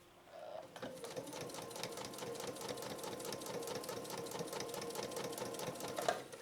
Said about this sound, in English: So let's do a super long straight stitch now, and then we'll do a last zigzag on this 4 layers of heavy grade denim.